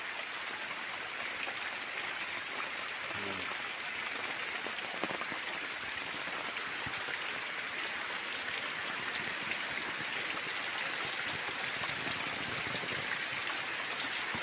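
Heavy rain in a village sends water flowing like a flood. A constant rushing wash of runoff and falling drops holds steady and fairly loud throughout, with no voices.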